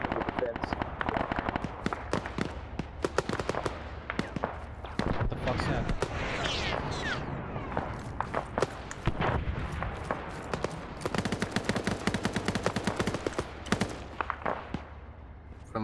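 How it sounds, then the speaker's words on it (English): Bursts of automatic and single-shot gunfire from friendly troops in ArmA 3 crackle almost without pause, sharp and loud, with voices talking over the shooting. "Friendlies are firing on targets to southwest as well"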